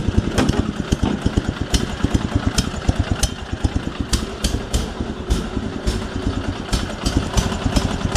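Sears SS16 garden tractor engine running cold at -25 C with the choke stuck on and overfueling, a loud rough, uneven chugging idle with irregular pulsing beats close by.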